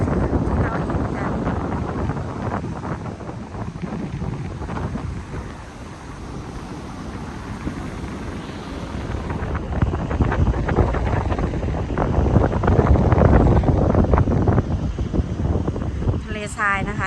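Strong wind sweeps across the sand dunes of Gran Canaria, buffeting the microphone with a loud, constant roar that swells toward the end while someone talks over it.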